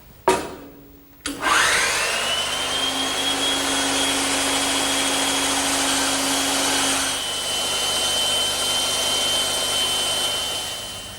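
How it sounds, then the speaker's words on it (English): A bandsaw runs up to speed and cuts wood freehand, a loud steady whine with a rising motor tone after a brief start, sustained near and continuous with a slight change as the blade works through the stock. "So I'm just going to take my time back at the bandsaw."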